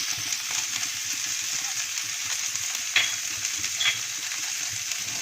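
Spices and stuffing for stuffed tomato vada, with kasuri methi, salt and fennel powder, fry on a low gas flame and are stirred in a pan, giving a steady close sizzle with a few scraping accents and no talk.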